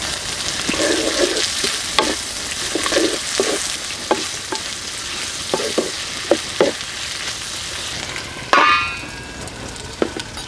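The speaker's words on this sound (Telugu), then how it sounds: "కోసి పెట్టుకున్న ఉల్లిపాయ ముక్కలు, అలాగే చీలికలు చేసుకున్న పచ్చిమిరపకాయ ముక్కలు కూడా వేసుకొని బాగా కలిపి మూత పెట్టేసుకుందాం" Sliced onions and slit green chillies frying in a pan for a pumpkin dal, with a steady sizzle under repeated scrapes and knocks of a spoon against the pan and one sharper clatter near the end.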